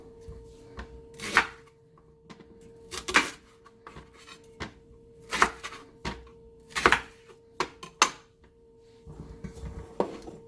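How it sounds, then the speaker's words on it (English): Irregular knife strikes on a cutting board, sharp chops spaced apart with a steady faint hum underneath, close and clear. "Let's get to boiling, or rather chopping and boiling."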